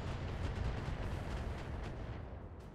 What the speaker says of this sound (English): some of the turrets are even hitting us with missiles from over there